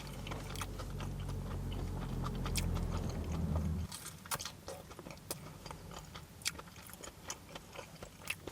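Battered sausage dipped in curry sauce from an award-winning fish and chips shop is eaten: a low hum fades, then close, crisp, irregular crunching bites and chewing follow.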